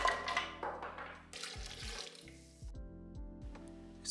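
Chopped coconut is washed under running water at a sink, with tap flow splashing and gurgling in uneven bursts and brief pauses between streams, heard up close and fairly quiet.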